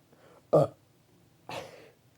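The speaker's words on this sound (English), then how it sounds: "I got a burp." Two deep burps from a person, a loud abrupt one followed a second later by a longer, slightly softer one, close up in a quiet room.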